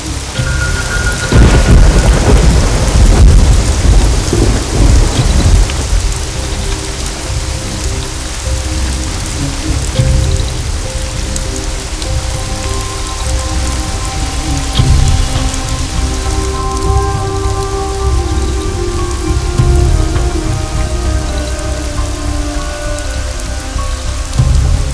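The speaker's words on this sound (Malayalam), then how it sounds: "ഇവിടെ ഭയങ്കര മഴയാ" Heavy rain and thunder in a Malayalam thriller film: a loud, rumbling thunderclap breaks early over a constant roaring downpour that continues for the whole stretch, with further low rumbles later and no voices.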